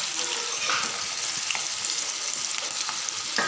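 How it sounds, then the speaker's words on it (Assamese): Dried chickpeas, garlic, chilies and ginger sizzle steadily in hot oil in a pan with the gas off, a continuous bright crackling hiss with a few stirring scrapes, close and alone. "এতিয়া মই গৰম তেলখিনিতে শুকুৱাই ৰখা বুট, নহৰু, জলকীয়া, আদাখিনি দি দিছোঁ।"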